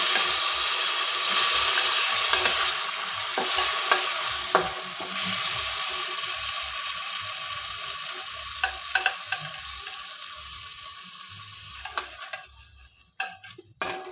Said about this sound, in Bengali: টমেটোর সাথে আমি একটা কাঁচা লঙ্কাও পেস্ট করেছি, এটা ভালোভাবে নাড়তে হবে।